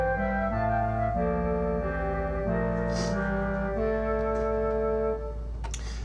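Notation-software playback of a woodwind duet: two sustained synthetic wind lines moving in steady stepwise notes together, clear and unaccompanied, with no talking.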